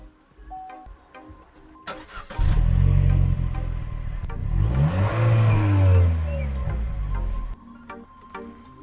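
Chevrolet Cruze 1.4 turbo engine revving up from idle, a loud surge that rises, holds and swells again over several seconds before dropping back to a quieter idle, with no talk.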